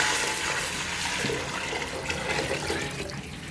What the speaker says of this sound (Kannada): ಅಕ್ಕಿಗೆ 1 to ಡಬಲ್ ನೀರು ಹಾಕೋಬೇಕು